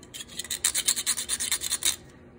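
Metal jewelry pieces for a dragonfly journal cover have their sharp edges smoothed with a file or sandpaper, giving a steady run of about a dozen quick rasping strokes close up, with no talk.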